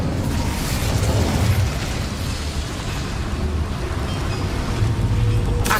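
An Incendio fire spell blast in Hogwarts Legacy, a sustained roaring, rumbling burst of flame noise that fills the scene loudly and steadily without pause, with no speech over it.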